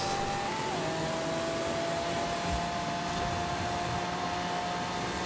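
A Lamborghini Urus with a turbo V8 in the racing game Forza Horizon 5 drones steadily at a constant pitch, a smooth sustained engine hum with no voices over it.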